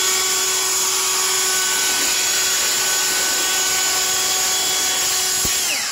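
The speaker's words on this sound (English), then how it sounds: "finally got to use her leaf blower" A leaf blower runs steadily and loudly throughout, with a continuous whirring drone and a high whine, close by and with no voices.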